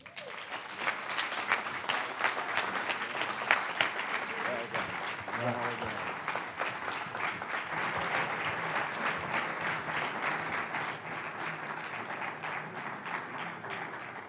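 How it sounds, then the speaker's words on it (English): Audience applause after a speech at a talk event, dense sustained clapping from a large crowd lasting the whole stretch, with faint talk briefly audible underneath. "How about another round of applause for George Casey Jr.?"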